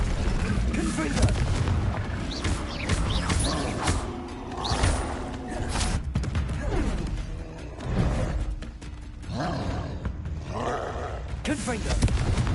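Confringo blasting spell explosions in the video game Hogwarts Legacy, a loud run of heavy booms and roaring blasts repeating over several seconds, with speech and voiced shouts mixed in among the impacts.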